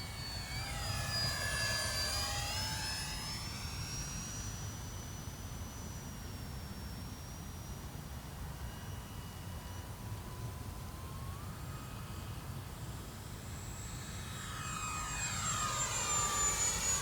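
An E-Flite UMX F-86 Sabre model jet with a 30mm electric ducted fan flies past outdoors. Its steady rushing whine rises and falls in pitch as it passes near, fades into the distance mid-flight, then swells loudly again on a second pass.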